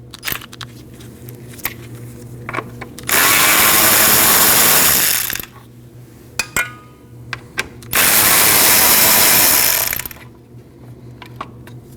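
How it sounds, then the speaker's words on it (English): A ratchet working on two 10mm bolts in the engine bay of a 2003-2008 Subaru Forester 2.5L H4 during coolant reservoir removal: two long, loud, continuous mechanical whirring bursts, each about two seconds, separated by small clicks and handling noises. "Now you remove your two 10mm bolts."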